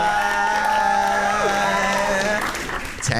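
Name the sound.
audience cheering and applauding for contestant Taya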